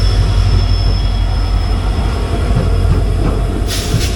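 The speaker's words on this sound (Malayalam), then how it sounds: "അങ്ങനെ ഭഗത് കി കോട്ടിയുടെ ലോക്കമാണ് 40301." The Runicha Express, hauled by a Bhagat Ki Kothi locomotive numbered 40301, rumbles loudly and continuously on the rails, with a steady low roar of wheels and carriages and a brief high squeal near the end.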